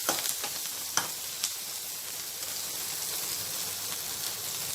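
Onion pieces for a tangy sorrel-leaf chutney sizzling in hot oil in a pan, a steady close fizz with a few sharp ticks from stirring near the start, no talk.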